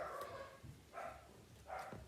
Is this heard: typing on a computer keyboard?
no